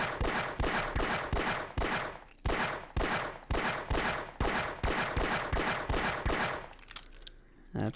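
A pistol in the Half-Life video game fires at a crystal. About a dozen loud, sharp shots come in a steady rhythm, close and alone, before a brief pause.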